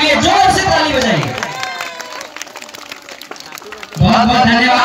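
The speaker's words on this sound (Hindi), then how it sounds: "एक बार प्रधानाध्यापक के लिए जोर से ताली बजाएं।" Students at a school celebration applaud their headmaster, loud dense clapping and crowd noise that fades in the middle and surges again near the end.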